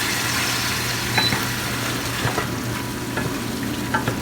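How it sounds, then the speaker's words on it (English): Chopped Italian canned tomatoes sizzle and bubble steadily in a hot pan, a close, constant frying hiss with small pops and occasional stirring scrapes. "Notice it's starting to simmer just a little bit."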